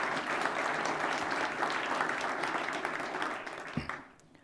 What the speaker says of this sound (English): Please give a round of applause to all the organizers